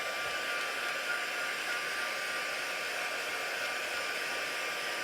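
A hair dryer drying a handmade card blows steadily at full power, a constant loud whirring rush with no pauses and no voices.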